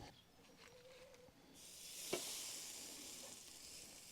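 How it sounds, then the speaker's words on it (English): A big picanha steak hits a very hot pan and breaks into a loud, steady sizzle about midway, after a quiet start, then hisses on without pause. "Time to cook steak."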